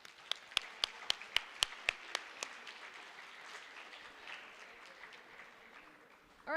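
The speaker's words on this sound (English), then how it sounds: "just a round of applause for them" A few sharp, separate handclaps open an audience's round of applause at a school athletics award celebration. They soon blend into a soft, steady, fairly quiet patter heard from a distance.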